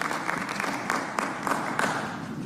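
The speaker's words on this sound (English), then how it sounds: "We have to stop applauding because that's interrupting people from hearing their name being called." An audience applauds at a city council public safety committee meeting, a short burst of scattered clapping with a few louder claps in a large room.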